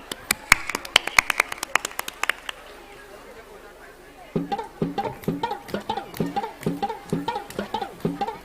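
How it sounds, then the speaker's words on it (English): A school audience claps for the students, first in scattered sharp claps, then in a steady rhythmic clapping beat with crowd chatter underneath. "Let's give a big round of applause and welcome the students of Standard 3rd A"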